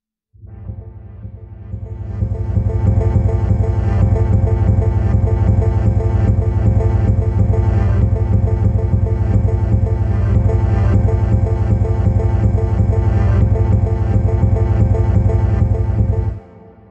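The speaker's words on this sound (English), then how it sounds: "And so here's the sound of the MicroGranny." Bastl MicroGranny granular sampler producing a dense, steady textured drone with a rapid stuttering pulse, loud and continuous for about fourteen seconds before stopping abruptly.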